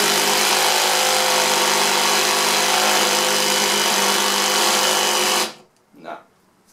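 A ToolPRO 18V cordless hammer drill runs steadily at high speed, a loud, even whine that stops abruptly near the end and is followed by a short, quieter burst.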